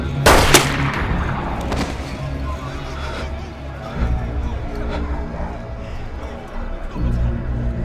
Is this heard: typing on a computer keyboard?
no